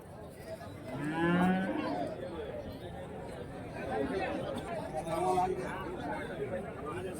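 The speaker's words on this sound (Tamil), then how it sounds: "இந்த சைடு ஃபுல்லாக வந்து சன மாடுங்க தான்" Pregnant cows low repeatedly at a busy cattle market in Krishnagiri district, with loud moos near the start and middle standing out over a constant babble of people talking around them.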